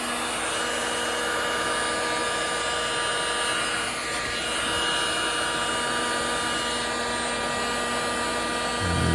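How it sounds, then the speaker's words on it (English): A heat gun blows hot air onto a Muscle Machines toy car body fitted to a Spin Master chassis. Its loud, steady whirring roar runs close and unbroken the whole time. "this is where your heat gun comes in"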